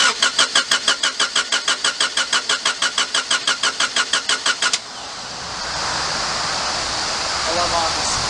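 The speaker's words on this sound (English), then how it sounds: "after the car sat and cranked over for a while, which is a little weird, it ended up starting" Project car with a newly installed catch can, its starter cranking in a fast, even rhythmic chug for several seconds before the engine fires and settles into a steady, loud idle close by.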